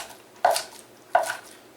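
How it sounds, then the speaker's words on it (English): A knife chops through hearts on a cutting board while chicken tacos are being made, with two sharp, separate strikes about a second apart, close and clear with no talking. "Let me cut up these hearts."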